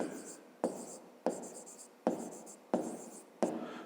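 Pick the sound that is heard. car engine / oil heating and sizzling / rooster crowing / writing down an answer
writing down an answer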